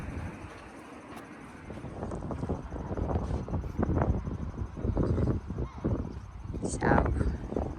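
Steady breezy wind on a mild day at a Danish harbour full of small boats and yachts, a continuous broadband rush that swells and gusts throughout, close to the microphone.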